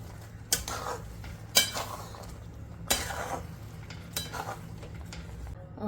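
A spoon stirs spice powder of clove, pepper, cardamom, cinnamon and nutmeg into a raw mango and jaggery mixture in a pot, giving soft scraping strokes with a few sharp clinks of metal against the vessel, near and fairly quiet.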